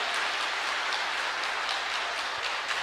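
A church audience applauds steadily during a priest's message of faith, a dense, even wash of clapping with no talk over it.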